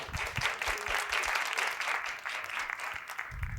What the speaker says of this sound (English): Give a round of applause for her.